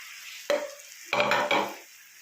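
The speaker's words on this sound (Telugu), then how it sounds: "ఇప్పుడైతే టమాటాలు కూడా వేసుకున్నాం హాఫ్ కేజీ టమాటాలు మూడు అయితే క్యాప్సికమ్ వేస్తున్నాం" Capsicum and tomatoes are stirred in a cooking pan, giving a few sharp scraping strokes and clinks against the metal over a faint sizzle. The sound is close, comes in short bursts and has no talking.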